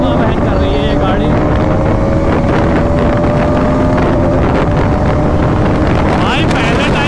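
A KTM Duke 250 and a Bajaj Pulsar NS 200 drag racing, engines droning and climbing steadily in pitch under loud, buffeting wind noise, with a final rising rev near the end.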